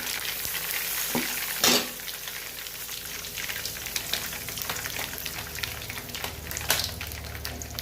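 Curry leaves, mustard seeds and cumin frying in hot oil, a dense continuous sizzle with a loud burst of spitting near the start and scattered crackles throughout.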